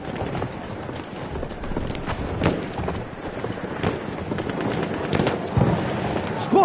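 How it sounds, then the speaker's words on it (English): Horse hooves in a Battlefield video game gallop in a fast, uneven clatter of hoofbeats, close and loud, amid noisy battle ambience with scattered thumps. "Spotted an enemy horse rider!"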